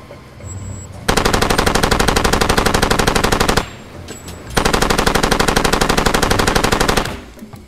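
Two long, rapid bursts of machine pistol fire from Far Cry 2, loud and close, each a dense stream of shots lasting a few seconds with a short quiet gap between.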